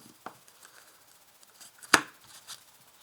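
A deck of tarot cards is cut: a soft click early on, one sharper slap of cards near the middle and a faint tap after it. All of it is quiet and close, with no voices.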